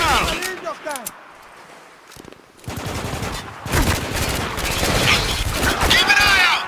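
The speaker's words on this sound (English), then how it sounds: "We're taking some heavy fire here!" Heavy automatic gunfire in the war shooter Spec Ops: The Line, rapid bursts and volleys of shots with shouted voices over the din, growing denser and louder in the second half.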